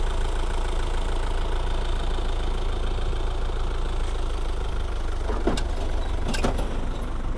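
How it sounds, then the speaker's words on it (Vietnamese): A 2008 Isuzu 1.9-ton truck idling, a steady continuous mid-low engine rumble with a couple of faint clicks near the end and no speech. "xe máy cơ này cho quý anh chị xem ha."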